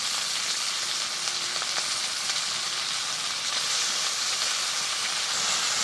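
Cut potatoes sizzle and hiss steadily in a hot pan, a continuous close frying crackle with no talk.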